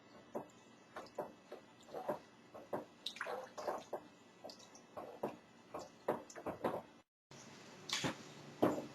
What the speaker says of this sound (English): now we're going to stir all of this together